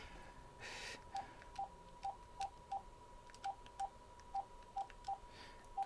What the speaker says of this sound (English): And it's dialing right now.